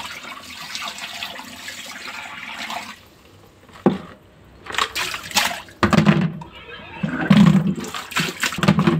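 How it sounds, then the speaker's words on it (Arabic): Water runs and splashes steadily into a strainer while cleaning clams, then pauses and returns in gushing bursts, close and fairly loud, with a voice talking in between. "هرجع احط عليه الميه هنا كده في المصفى"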